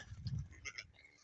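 A sheep bleats once nearby at a farm kept with sheep and goats, a short quavering call that is fairly faint.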